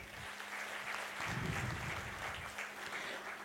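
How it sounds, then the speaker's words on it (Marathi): Audience applause at a lecture series event in Karad for a certified mountaineer speaker, a dense hall-wide clapping that swells in the middle and holds steady, with no talking over it. "त्यांच्यासाठी एकदा जोरदार टाळ्या"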